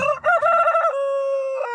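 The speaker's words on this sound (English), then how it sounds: "Roosters are roostering. Crows are crowing." A rooster crows close and loud, one long cock-a-doodle-doo with a rising, wavering middle and a held final note, with no other sounds around it.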